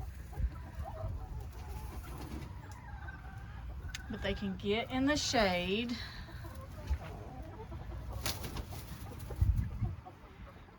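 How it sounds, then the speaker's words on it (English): Chickens cluck and call in a short burst mid-clip, with a person speaking briefly and steady outdoor background noise throughout. "I think we have some fat chickens."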